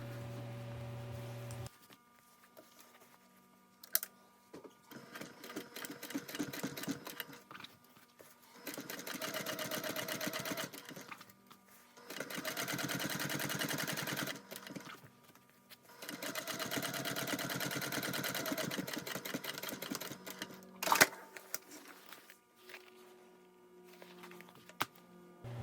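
A sewing machine top stitches a fabric bag just below the zipper seam, running in several long whirring bursts separated by pauses, close and clear with a faint hum between runs.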